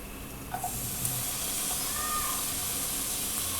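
Chopped tomatoes hitting hot oil with onions in a pan for Indian-style masala macaroni pasta, giving a steady, close, continuous sizzling hiss that swells after a brief clatter and holds for the rest of the clip, with no talk.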